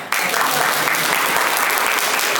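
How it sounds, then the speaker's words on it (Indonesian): Church youth gathering audience breaks into applause, a sudden onset of dense, loud clapping from many hands that holds steady to the end. "Tepuk tangan dong."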